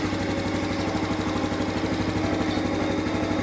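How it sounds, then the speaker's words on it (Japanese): A Honda Super Cub 110 (JA59) motorcycle engine idles close by while warming its oil, with a steady, even chugging putter, uninterrupted and alone. "まずエンジンかけてオイル温めましょう。"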